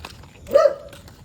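A single short dog bark or yip, fairly close, standing out briefly from a quiet background.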